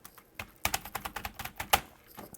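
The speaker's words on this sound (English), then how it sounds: "Listen to this fucking bullshit keyboard that feels like ass." Rapid typing on a cheap Hello Kitty computer keyboard, a steady run of light, clacky plastic keystrokes heard close up with no talking.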